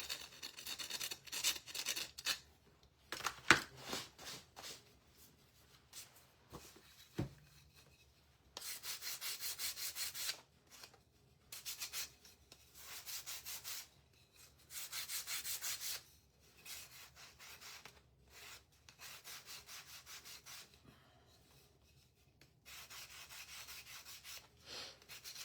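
Sandpaper rubbing across wood for a craft shelf-sitter, in repeated bursts of harsh, close scratching strokes separated by short pauses, with no talking.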